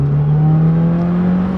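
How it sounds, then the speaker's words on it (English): Subaru WRX engine held at a steady high rev while brake boosting, a loud sustained drone with a constant pitch, slowly rising slightly, close and alone without talk. "I'm brake boosting, so I'm actually putting my left foot on the brake, pushing the gas, and then I let off the brake."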